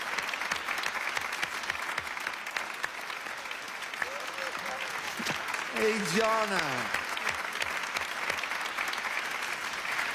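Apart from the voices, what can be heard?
audience applauding a child's Quran recitation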